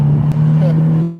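A car with a manual transmission drives along, its engine holding a steady, loud drone that stays even through the clip before easing off at the very end.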